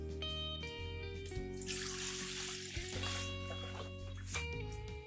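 Cool water is poured into a bowl with a steady hissing splash that lasts a few seconds, close and fairly quiet, under a sustained musical background.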